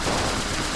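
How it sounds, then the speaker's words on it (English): Gunfire in the video game 20XX, a short loud continuous burst of rapid shots with no talk. "I'll keep firing here as well."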